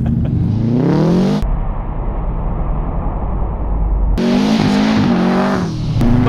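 A car with straight-pipe exhaust, about 450 horsepower and fitted with studded winter tires, revs loud and close. Rough, rising engine tones break into a steady lower roar, then climb again.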